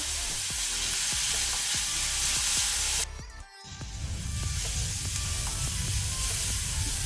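Onions frying with salt in a pan for a cabbage and chickpea palya give a steady close sizzle with stirring clatter, briefly cut off midway before the frying hiss returns.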